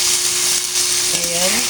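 String beans and other vegetables stirred as they fry in a pan for a coconut-milk vegetable stew, a steady close sizzle with brief scraping of the utensil near the end.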